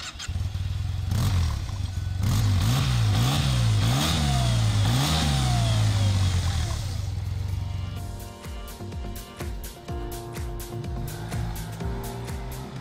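A Yamaha T-Max 530 scooter engine revs hard several times in a rising and falling pattern, loud and close, then settles into a rougher idle with sharp clicks and knocks, with no talk.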